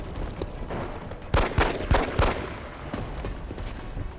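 Gunfire in the video game XCOM Enemy Within: several loud shots crack in quick succession in the middle, backed by a busy layer of game noise and scattered smaller impacts.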